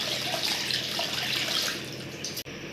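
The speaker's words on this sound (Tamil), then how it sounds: "இதுக்கு தேவையான அளவுக்கு தண்ணி ஊற்றிக்கலாம்" Water poured by hand into a vatha kuzhambu curry mixture of spices and chili powder, a close, steady splashing pour that runs for about two seconds and then cuts off, with no talking.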